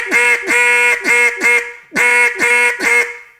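Hunting-style hail call blown on a duck call, a loud, close series of raspy quacks in two descending groups of four and three, each note sharply attacked and fading, with a short pause between groups.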